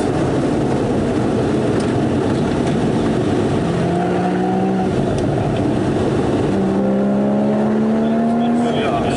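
A Porsche Boxster 981 GTS or 718 Spyder on a mountain road over the Serra da Estrela, its engine roaring loud and close with rising rev sweeps, while a person speaks over the steady mechanical drone.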